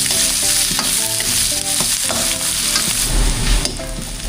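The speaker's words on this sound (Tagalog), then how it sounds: "Gisa na po natin yung ating bawang sibuyas tsaka luya." Garlic, onion and ginger sizzle steadily in hot oil in a pan, with a spatula stirring and scraping in close, loud bursts and no talking.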